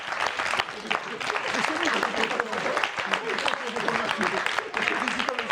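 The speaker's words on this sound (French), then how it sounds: "ça s'applaudit" Audience applause for the winning team, the Kongoni, at a lively quiz game show, steady clapping throughout with a voice talking over it.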